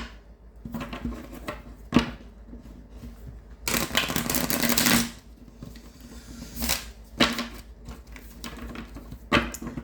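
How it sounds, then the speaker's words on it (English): Tarot cards are shuffled indoors in short, soft riffling bursts with a longer flurry in the middle and scattered taps and rustles between, fairly quiet and with no talking. "let me get a little shuffle"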